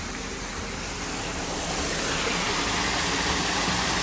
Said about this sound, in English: But this little falls is looking good.